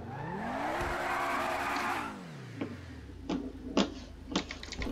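A Lamborghini in GTA 5 starting up and revving, its engine note climbing then dropping back to a low idle, followed by a few sharp clicks and taps.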